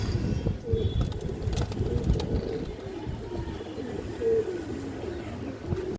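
Domestic fancy pigeons coo softly and repeatedly at close range, with low rolling calls overlapping through the scene and no speech.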